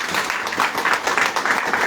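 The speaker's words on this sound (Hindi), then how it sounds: "चलिए मेरी बार एक बार के लिए जबरदस्त ताली लीजिए," A seminar crowd gives a big round of applause, dense continuous clapping filling the space at close, loud level with slight swells in intensity.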